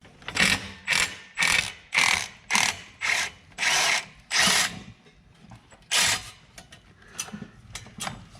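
A socket ratchet cranks out a downpipe clamp bolt on a 6.0 diesel engine, with eight quick, loud, evenly spaced bursts of clicking, then a pause, one more burst and a faint trailing rattle.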